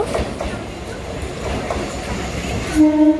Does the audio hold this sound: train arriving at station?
yes